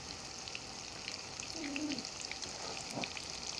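Hamburger-style patties for Salisbury steak frying in a pan, giving a soft continuous crackle and hiss at moderate distance with a brief faint tone and a small clink partway through.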